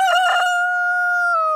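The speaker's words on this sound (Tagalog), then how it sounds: "merong mga manok" A single rooster crow, loud and close, a sustained tonal call lasting over a second before cutting off abruptly.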